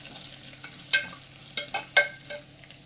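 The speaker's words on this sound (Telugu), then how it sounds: "ఎండుమిరపకాయలు వేసి ఒకసారి తాలింపుని కలుపుకోవాలండి" A South Indian tempering of mixed lentils, cumin and dried red chillies fries in oil for upma, with a soft background crackle and a few sharp metallic scrapes as it is stirred.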